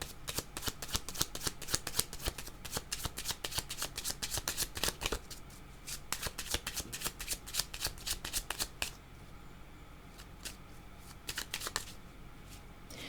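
Blue tarot cards shuffled close up, a rapid run of crisp riffling flutters and slaps repeating for several seconds, then softer and sparser toward the end, no talking.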